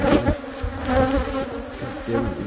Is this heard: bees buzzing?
yes